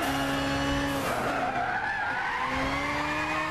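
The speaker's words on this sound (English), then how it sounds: "Yep, I can make this car drift." Tyres squeal continuously as a car drifts in the racing game Gran Turismo 6, a steady screech with the engine droning underneath, loud and close throughout.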